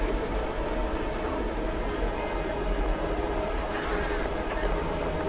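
A train pulls in at a station platform in Hitman Absolution, a steady loud rumble and roar of rolling stock with a faint high whine, continuous throughout with no voices.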